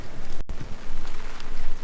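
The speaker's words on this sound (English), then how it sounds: "Talk about rainy." Steady rain falls outdoors at a Gold Coast theme park in Queensland, a dense continuous patter that stays fairly loud throughout with no voices.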